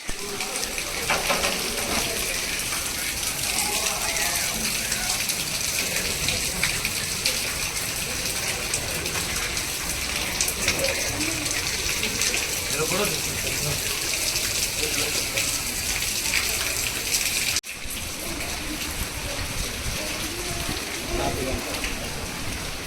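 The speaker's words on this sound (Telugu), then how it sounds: "వాటర్ లీకేజ్ చూడండి, చిన్న పని. 10 రూపాయలు ట్యాప్ బిగించుకుంటే పోయేది" Water gushing steadily from a leaking tap in a boys' hostel, a loud continuous hissing rush that never lets up.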